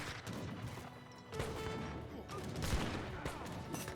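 Gatling gun volley in an Age of Empires 3 battle, a fairly quiet patter of rapid shots mixed with crashing impacts and clatter of fighting units, rising slightly toward the end.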